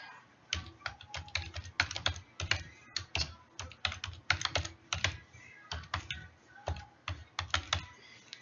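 Steady typing on a computer keyboard while entering a login, close and crisp, with rapid irregular key clicks in quick runs and short pauses, no voices over it.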